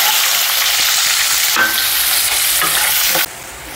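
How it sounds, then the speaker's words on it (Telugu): Onions frying in a pan for egg biryani, with a steady loud sizzle and occasional stirring scrapes, and no talk. "ఇప్పుడు ఆనియన్స్ వేసుకొని ఫ్రై చేసుకోండి"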